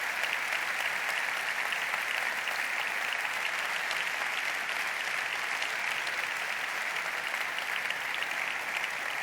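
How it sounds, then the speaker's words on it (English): A large audience at the BBVA Foundation Frontiers of Knowledge Awards ceremony applauds steadily and evenly throughout, a dense wash of clapping with no talk over it. "I ask you to applaud them in the meantime"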